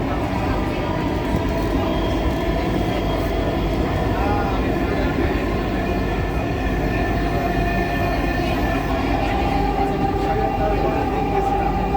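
Inside an elevated metro train running above Mirpur DOHS in Dhaka, a loud steady rumble and rattle of the carriage fills the whole stretch, with a faint whine over the constant low roar.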